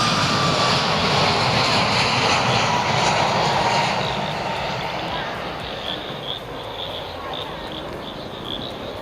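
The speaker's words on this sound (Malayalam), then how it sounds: "ഫ്ലൈറ്റ് അവിടെ നിന്ന് വന്നിട്ട് ഇങ്ങോട്ട് ലാൻഡ് ചെയ്തേണോ അല്ലെങ്കിൽ ടേക്ക് ഓഫ് ആണെന്ന് തോന്നുന്നു. Take off." An airplane takes off at an airport, a loud broad engine roar that is strongest at first and then eases slightly as it draws away, with a thin high whine running over the top.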